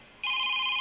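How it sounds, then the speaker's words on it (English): A jazz phone ringtone starts abruptly with a bright, sustained electronic tone, loud and close, after a moment of quiet. "Where's the jazz ringtone?"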